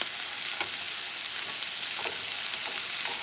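Shrimp fry in a pan for chow mein, giving a loud, continuous bright sizzle, with soft clicks as the pieces are turned.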